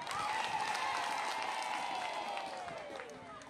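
An audience at a political speech claps together in a dense burst that holds steady and then slowly fades as it ends.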